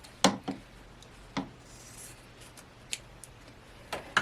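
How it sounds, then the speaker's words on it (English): Scissors snipping through quilt fabric scraps for a scrap quilt, a few sharp, separate cuts spaced unevenly over a quiet room, with a soft rustle of cloth between them. "let's cut this one a bit too"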